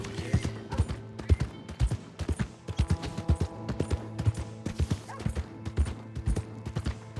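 Horse hooves clip-clop in a steady trotting rhythm on the ground in Red Dead Redemption 2, close and clear with faint background sounds.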